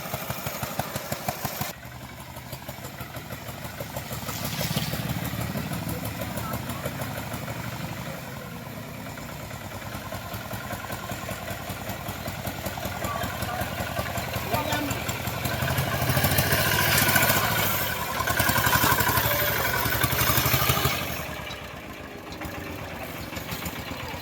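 A Royal Enfield Bullet motorcycle fitted with a hydraulic kit runs with a steady engine drone that swells in the middle and fades near the end, heard under a voice talking.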